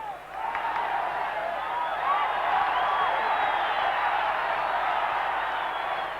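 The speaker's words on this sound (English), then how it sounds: "Crowd love that." Football stadium crowd at a 1990 Colombia versus USSR friendly roars steadily in appreciation of a Colombian dribble, a broad sustained swell of cheering and whistling heard from a distance.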